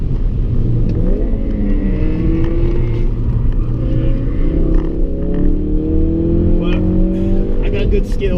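A race car howls around the Nurburgring GP circuit, its engine revving up and down through gear changes with rising and falling tones, loud and close, while voices talk over the onboard radio.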